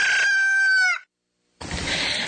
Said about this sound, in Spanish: El despertar del gallo.